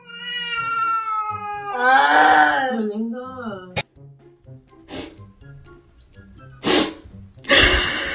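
A cat meows loudly several times in drawn-out, wavering cries, followed by a few sharp sneeze-like bursts and short breathy noises at close range.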